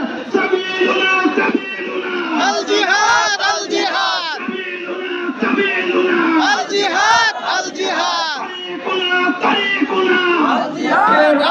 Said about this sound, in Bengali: সকলে স্লোগান দিবেন